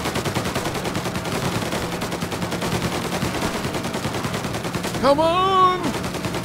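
Rapid automatic gunfire rattles on steadily through a shootout in Mafia Definitive Edition, with someone briefly shouting over the shots near the end.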